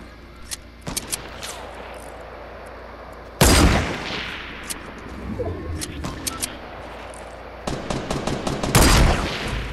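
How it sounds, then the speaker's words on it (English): Sniper rifle fire in the video game Fortnite: two loud, sharp blasts about five seconds apart, each with a short ringing tail, over chirpy bird-like ambience and scattered clicks. "I just sniped him."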